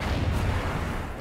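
Gunfire in a shooting video game: a dense, sustained low rumble of shots and blasts with no clear gaps, moderately loud and steady throughout.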